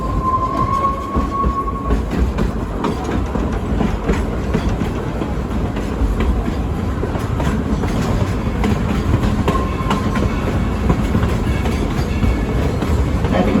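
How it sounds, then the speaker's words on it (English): A coal-fired Type 2-8-2 steam locomotive hauls a passenger train at Dollywood, heard from on board as a loud, steady rumble with clickety-clack wheel rhythm and occasional brief squeals. "is a genuine coal-fired, steam-driven Type 282 locomotive"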